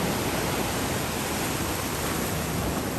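Steady, loud roaring wash of surf at Daytona Beach with no breaks, like waves crashing continuously up close.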